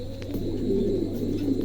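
A pair of Shoking pigeons coos steadily and close by, a low murmuring call rolling on throughout with no speech.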